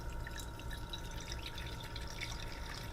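Tea trickles and drips steadily through a sanitized standard metal sieve used as a large strainer while brewing pink beer, a continuous close liquid patter with no talk.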